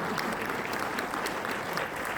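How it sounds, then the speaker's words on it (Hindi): Sustained, dense applause from a crowd at a kavi sammelan poetry evening held in a camp, many hands clapping evenly and fairly close, with no voices rising above it. "कुछ अच्छा करके गया हूँ तो एक बार ताली हो जाए।"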